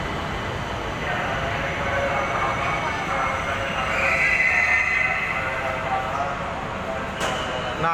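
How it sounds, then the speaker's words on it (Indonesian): A commuter train pulls into a station near Depok with a loud, continuous rumble and rolling clatter of wheels, plus a faint metallic squeal midway. The noise sounds close and sustained, with crowd noise and possible voices mixed underneath. "Nah, ini keretanya udah nyampe ya guys."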